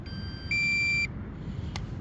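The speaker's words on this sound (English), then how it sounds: "let me stop this beeping." A small inexpensive RC warbird plane with a brushless motor gives off an electronic beep, a steady tone lasting about half a second followed by a short faint blip, heard alone without talk.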